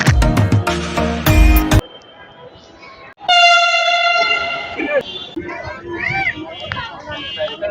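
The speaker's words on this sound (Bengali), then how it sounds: "একটু পরে চলে আসে আমাদের অপেক্ষিত মেট্রো রেল" A metro train pulling into a station platform sounds a loud, sustained horn blast. Before it comes a burst of busy platform noise and rumble, and after it a voice talks over the mechanical hum of the arriving train.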